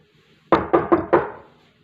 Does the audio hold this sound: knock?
yes